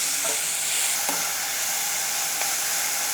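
Carrots and other vegetables fry steadily in a pan for white sauce pasta, a continuous close sizzle with a few faint clinks of stirring and no talking.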